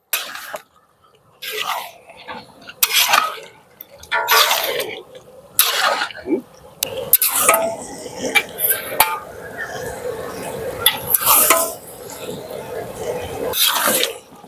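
Mutton pieces are dropped into a ready spice masala in a cooking pot for village-style Bengali mutton kosha, making clattering metal knocks and scraping at close range, with talking and a cough in between.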